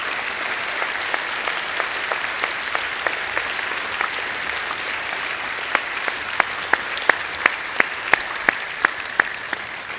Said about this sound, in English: Let's give these boys a big round of applause.